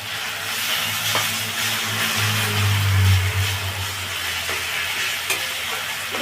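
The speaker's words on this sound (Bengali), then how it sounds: "এরপর দিচ্ছি আদা কাঁচা লঙ্কা আর রসুনের বাটা" Ginger, green chili and garlic paste frying with mushrooms in a pan, a steady close sizzle running throughout with a low rumbling hum underneath and a few faint clinks.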